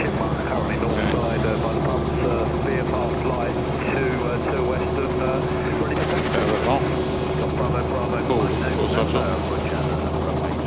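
A Robinson R66 helicopter's turbine engine roars loud and steady from the cockpit as the throttle is brought up, a continuous whine and rotor drone with a pilot's voice speaking over it.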